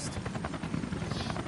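A helicopter in the Resident Evil: Revelations video game hovers nearby with a steady, loud rotor chop and engine drone throughout, with no voices over it.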